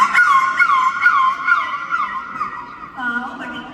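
A voice imitates a dog yelping after being struck by a stone during a ladies' mimicry competition, with a series of sharp, falling yelps followed by a longer whining howl, loud and close.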